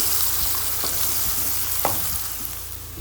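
Tomatoes and spices for bhindi masala fry in a pan with a steady close sizzle, broken by a few scraping stirs and clinks of the spoon against the pan.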